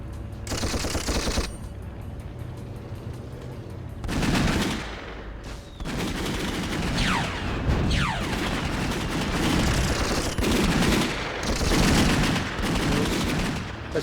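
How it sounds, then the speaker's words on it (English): Rapid machine gun bursts from a toy vehicle in the Dreamcast game Toy Commander, loud and sustained across several bursts, with some engine whine and explosion-like swells between the volleys. "if I shoot the machine gun like that, I can't aim that as easily as the missiles"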